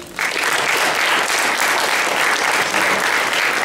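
A lecture audience breaks into steady, loud applause that starts abruptly and holds evenly throughout, a dense wash of many hands clapping with no talk over it.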